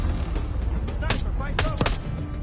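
Gunfire in the Call of Duty Black Ops 6 campaign, a few sharp broadband bursts standing out against a dense, noisy battle background with low rumble.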